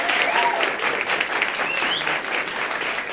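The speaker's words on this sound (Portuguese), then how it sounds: "Palmas para ele, gente." An audience at a Brazilian panel on religious diversity applauds a guest, a steady, dense wash of clapping from many hands throughout.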